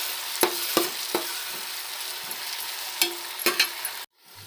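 Tomatoes frying in a pan for a vegetable dum biryani, with a steady soft sizzle broken by several sharp stirring scrapes, close and clear, no talking, ending abruptly in near silence.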